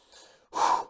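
A deep breath taken close to the microphone during a hypnosis session, with a soft faint intake followed by a louder, fuller airy breath, short and alone.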